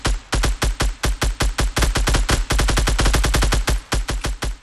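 Rapid automatic gunfire in a battle royale game rattles off in loud, close bursts of evenly spaced shots. The bursts have brief pauses between them, and no one speaks.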